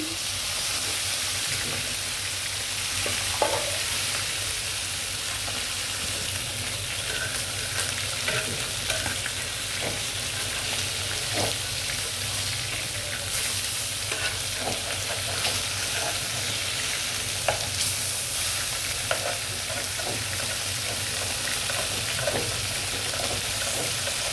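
Baila fish, with its roe, frying in a pan while being stirred, a continuous close sizzling hiss with light scraping and occasional soft clinks of the utensil throughout.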